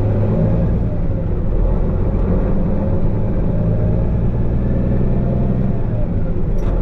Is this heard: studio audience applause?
no